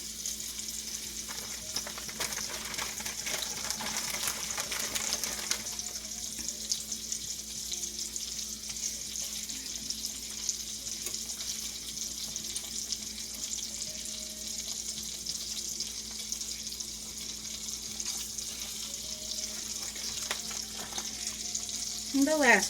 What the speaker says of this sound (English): Start adding the sausages. Yes, into the bacon grease.